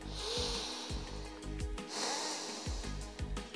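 Nasal breathing during a gentle morning bed stretching routine, with two soft, airy inhalations through the nose over a low background, unaccompanied by talk.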